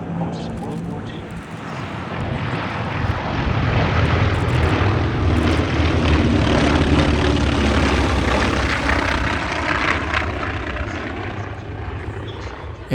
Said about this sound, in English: Here come the T-28 Trojans.